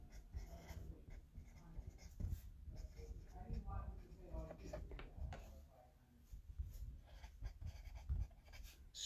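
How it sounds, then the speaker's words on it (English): A pen writing a name on an autograph at a fan Q&A and signing event, faint scratchy strokes under ongoing crowd noise and nearby voices. "I'm going to write your name on there"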